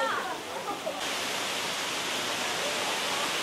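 The Kanto Lampo waterfall in Bali roars as a broad, steady rush of falling water, loud and continuous, with faint voices briefly at the start.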